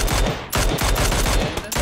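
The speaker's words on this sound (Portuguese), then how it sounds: "Muito tiro." Dense, rapid gunfire from PUBG (PlayerUnknown's Battlegrounds) rattles in continuous loud bursts with brief gaps, harsh and close.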